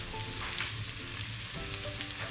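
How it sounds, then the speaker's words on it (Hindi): Masala frying in a pan, a dense, steady sizzle and crackle that holds close and moderately loud from start to finish, with light stirring. "अब इसमें मसाला डाल के मुझे अच्छी तरीके से भूनना"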